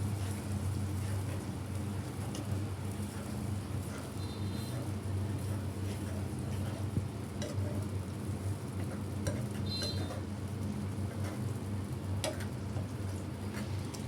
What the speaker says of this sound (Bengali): একটু বাদামটা একটু কষানো হোক।